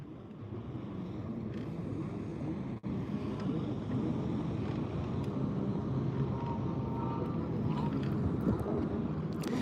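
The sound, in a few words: jet skis running on the water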